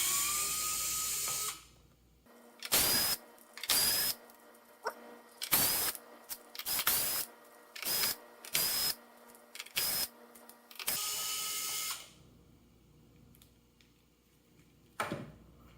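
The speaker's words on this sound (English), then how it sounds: "now it's just a matter of removing all 8 screws" A powered screwdriver backs out the Phillips screws from the cover of a DreameTech D9 robot vacuum, giving repeated short whirring bursts separated by pauses, close and fairly loud.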